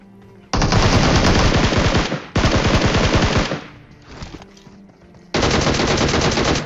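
Loud automatic gunfire from the PUBG Mobile game plays in Rush mode. Several long, close bursts of rapid shots are broken by brief pauses, with a shorter gap before a final burst.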